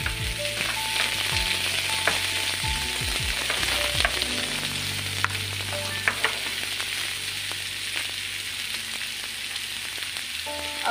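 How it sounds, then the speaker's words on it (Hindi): Green chillies and onion fry in a pan for an aloo bonda filling, giving a steady close sizzling hiss with scattered light scrapes and clicks of stirring throughout and no talk. "ये देखिए हरी मिर्च हमारी अच्छी तरह से भून चुकी है। अब हम इसमें प्याज ऐड कर लेंगे।"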